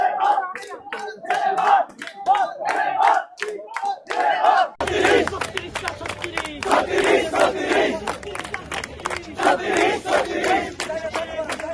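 Crowd of protesters chanting slogans in unison in front of Dhanmondi 32, Dhaka, with rhythmic shouted calls and responses, loud and close, swelling into a dense, continuous roar of many voices.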